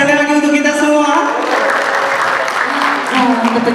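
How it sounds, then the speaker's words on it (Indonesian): Audience at a university pageant grand final, the Bujang Gadis UNSRI 2021 event, claps loudly and steadily throughout under an amplified voice and background music. "Boleh tepuk tangan sekali lagi untuk kita semua."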